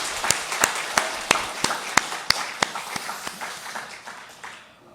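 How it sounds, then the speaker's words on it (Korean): A church congregation applauding its choir during a Sunday service, a short burst of clapping with distinct claps that fade out over a few seconds. "우리 격려의 박수 한번 하도록 하겠습니다"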